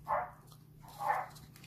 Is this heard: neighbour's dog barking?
yes